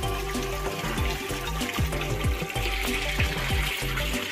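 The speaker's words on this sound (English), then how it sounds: "a bell siphon, which the water fills up to about an inch below the surface and then drains" Water drains through a bell siphon in a backyard aquaponics tank, a steady, close gurgling and splashing flow with rhythmic bubbling pulses throughout.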